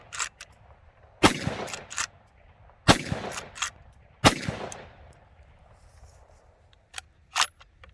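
Three sharp, loud rifle shots from a Henry Long Ranger Express in 30 caliber fitted with a 5/8-24 Comet muzzle brake, evenly spaced outdoors with brief echoing tails, followed by quieter mechanical clicks and handling.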